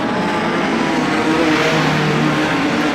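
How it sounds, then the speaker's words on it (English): Production sedans race around the Moora Speedway dirt oval during an Australian Title heat, engines roaring in a loud, continuous, dense blend with no clear gaps between cars. "Now Laidlaw opens up, goes underneath of Josh Fraser into 4th"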